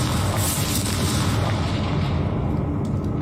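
A Confringo fire spell explodes in the Hogwarts Legacy video game, giving a dense, sustained roaring blast that fills the clip loudly with no talking over it.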